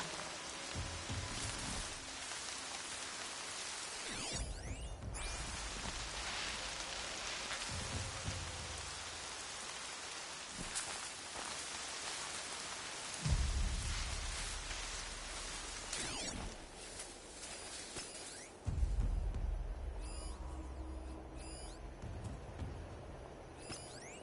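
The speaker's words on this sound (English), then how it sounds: "More rain." Continuous rainfall in Horizon Zero Dawn, a broad even hiss lasting the whole stretch, with occasional louder thuds and movement sounds from the game layered on top.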